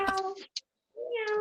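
A person imitates a cat with two drawn-out, nasal meows separated by a short pause, close and fairly loud.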